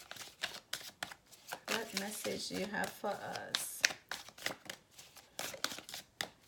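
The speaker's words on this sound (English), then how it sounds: "Alright, 3 more shuffling." Repeated riffling and snapping of tarot cards being shuffled by hand, in quick bursts, with a voice speaking over part of it.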